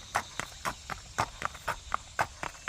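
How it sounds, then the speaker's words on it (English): A gaited Walkaloosa gelding with a four-beat racking walk moves down a driveway, hooves clip-clopping in a steady, evenly spaced rhythm at moderate distance, with no talk over it. "comes Dante walking down the driveway just so you can see his walk"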